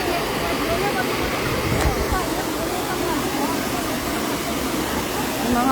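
A deep waterfall pours with a strong impact, and its water rushes as a loud, steady roar that fills the whole scene. Faint voices sit beneath it.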